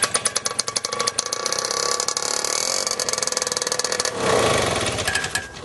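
A Charles Simonini two-stroke engine, choked for starting, sputters through rapid firing pulses and then settles into a loud, steady buzzing run with a brief surge near the end.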